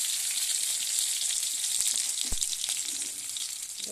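Green chillies and spices frying in hot oil give off a steady, fairly soft hiss and sizzle throughout, with a single light knock near the middle and no talk.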